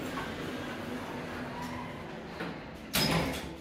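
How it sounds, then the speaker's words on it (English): Lift doors at Lakeside Shopping Centre slide shut with a low steady rumble, ending in a short, louder thud near the end. "Doors closing."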